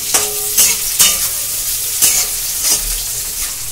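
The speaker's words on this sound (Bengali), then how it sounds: "পেঁয়াজটা দিয়ে দিচ্ছি তেলে" Sliced onion sizzling in hot oil in a pan for restaurant-style chana masala, a steady frying hiss broken by several sharp scraping stirs of a spatula, close and fairly loud, with no voices.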